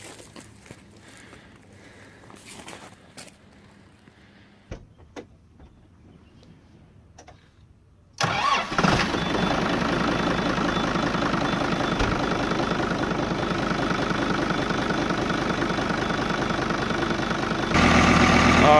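A Kubota tractor engine cranks and catches partway through, then settles into a loud, steady, close-up diesel idle with a rhythmic knocking chug that continues to the end.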